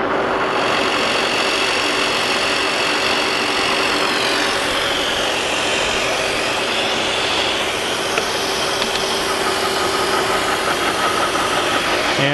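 A J. A. Vance planer/matcher table moves down with coolant running, giving a steady, continuous mechanical drone and hiss that stays even in loudness throughout, with no voices.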